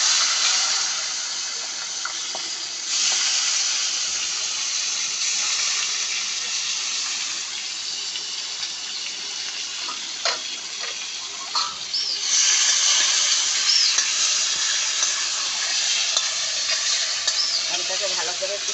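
Unripe mango pieces and panch phoron fry in oil, giving a steady hissing sizzle that jumps louder twice as more goes into the pan, with a few faint clinks.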